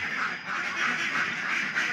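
Ducks of mixed breeds quack in a rapid repeated run, several nasal calls close by and moderately loud, with no talking.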